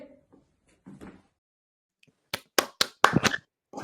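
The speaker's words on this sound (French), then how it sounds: "Si on était plus nombreux, les applaudissements seraient plus impressionnants." A few separate claps from a small group of acting students during a live coaching session, sharp and close, starting after a quiet stretch of faint movement and ending in a brief scattered burst.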